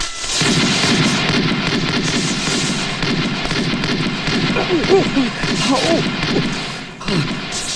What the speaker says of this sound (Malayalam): ആരുടെ ഇപ്പൊ വെടിവെക്കാൻ പറഞ്ഞത്?